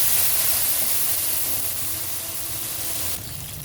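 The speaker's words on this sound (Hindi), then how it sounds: "और इसको मैं दूंगी पानी का छींटा।" Water splashed into a pan of golden fried onions and turmeric erupts into a loud, steady steamy hiss and sizzle, easing slightly before dropping a notch near the end.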